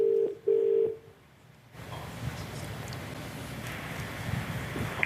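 A telephone being dialed to call someone: a few short bright tone beeps at the start, then a pause and a faint hissy line with low background rumble, no voices.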